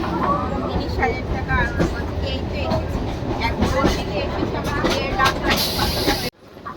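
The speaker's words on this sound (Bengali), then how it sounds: "Shalda is arriving on platform number" A train pulls into a busy station platform, its loud rumbling and rattling wagons carrying on steadily, with crowd noise and voices mixed in before it cuts off abruptly.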